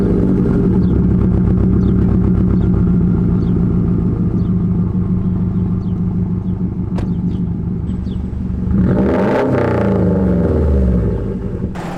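A Subaru BRZ engine fitted with a UEL catted header and Corsa exhaust rumbles loudly and close, a steady deep idle with a burble, then a brief rev swelling and falling near the end.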